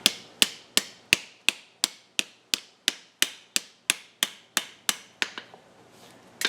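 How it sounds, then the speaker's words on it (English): A hammer draws out hot metal for a bar shoe with about fifteen sharp, ringing blows struck at an even, brisk rhythm close by, then stops briefly before a last knock. "I'm going to draw with my hammer and pull that into the corner"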